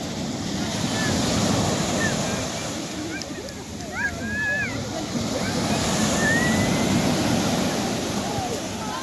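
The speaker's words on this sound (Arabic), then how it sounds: "اش كيدير البحر" Sea waves wash and rumble steadily on the shore, with heavy wind buffeting the microphone, seagull-like cries and faint voices in the background.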